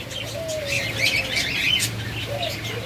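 A pair of white ringneck parakeets chirp in scattered bright calls among other caged birds, moderately close over a low steady background hum.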